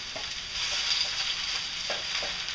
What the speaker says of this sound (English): We're going to let that melt in a warm pan and put our onions in